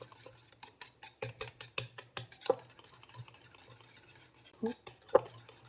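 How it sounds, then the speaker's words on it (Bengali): A whisk beats mango, egg and oil together in a bowl, giving a string of quick clinking and scraping strokes, uneven in rhythm and fairly close. "এবার আমি একসাথে ভালো করে ফেটিয়ে নেব। আমটার সাথে যাতে ডিমটা তেলটা ভালো করে মিক্সড হয়ে যায়।"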